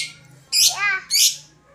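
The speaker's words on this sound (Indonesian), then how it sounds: "itu kenari ada teman-teman" A canary at a rural home where pigeons and other songbirds are kept gives two short bursts of bright, trilling chirps close by, with a quiet gap between them.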